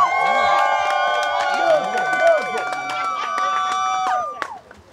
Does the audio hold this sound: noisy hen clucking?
no